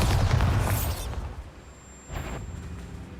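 A Bombarda spell exploding in Hogwarts Legacy, a loud close blast with a low rumbling boom that fades, then a second burst follows about a second later.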